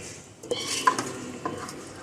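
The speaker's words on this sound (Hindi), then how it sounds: "अब हम इसकी भुनाई करेंगे अच्छी तरीके से, तकरीबन 1 से 2 मिनट के लिए" Chicken being sautéed and stirred in a pot over high heat for a mild chicken soup, with a few metallic spoon knocks and scrapes over a quiet sizzle, no talk.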